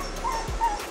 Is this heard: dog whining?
yes